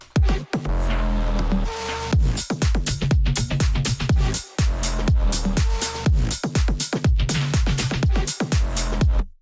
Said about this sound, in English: I added this bass. So this is what it sounds like.